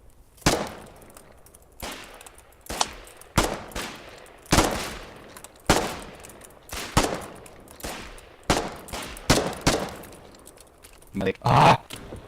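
Pistol shots ring out one at a time in the war video game Foxhole, a dozen or so sharp cracks spaced irregularly across several seconds, some in quick pairs, loud and close.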